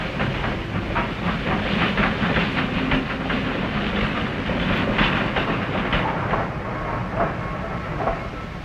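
A Norfolk and Western passenger train runs on the rails near Bluefield, West Virginia, with a loud, continuous rumble, steady clickety-clack of wheels over rail joints, and a faint hiss.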